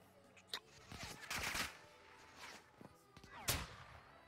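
Video game gunfire crackles in scattered bursts, a few sharp shots spaced through the moment with one loud crack near the end, set over a busy in-game background.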